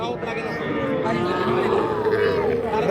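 At a cattle market, a cow gives a long, loud, close moo that lasts the whole moment. Traders and buyers talk in the background.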